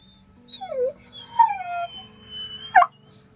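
A young dog whimpers and howls close by: three short, wavering, moaning cries that rise and fall, the last sharper and more strained, with no voices around.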